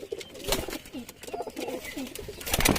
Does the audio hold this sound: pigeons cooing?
yes